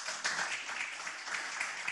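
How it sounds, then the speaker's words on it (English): A small audience at a Rotary meeting claps, a brief, fairly soft patter of applause that holds steady for a couple of seconds. "Let's give her a round of applause."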